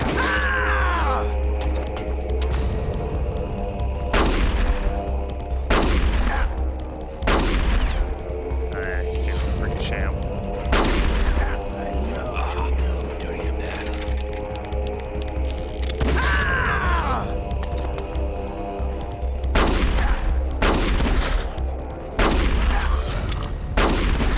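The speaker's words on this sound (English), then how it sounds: "Did I just shoot Baker?" Gunshots in Metal Gear Solid: The Twin Snakes ring out as loud, sharp, irregular bursts, some single and some in quick pairs, over a constant low game hum and music bed.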